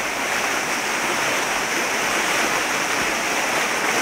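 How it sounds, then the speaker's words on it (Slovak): Floodwater rushes through Nová Ľubovňa, a loud, dense and unbroken roar of churning water, close and steady for the whole stretch with no voices. "Sa valí voda v Novej Ľubovni."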